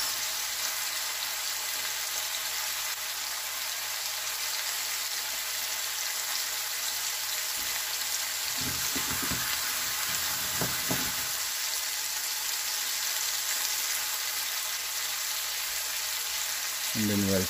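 A New York striploin steak fries in a pan with a steady, bright sizzle that runs the whole way through. A few short low knocks come in near the middle and again at the end.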